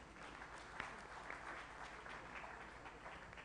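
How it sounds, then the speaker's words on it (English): A conference audience at a business convention applauds a panel, a dense, even wash of clapping that carries at moderate, slightly distant level throughout. "Let's have a big round of applause for them."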